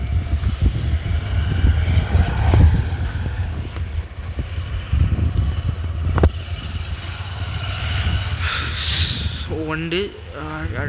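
Vehicles pass along a road in a steady rush of traffic and engine noise, with wind buffeting the microphone and a voice speaking near the end.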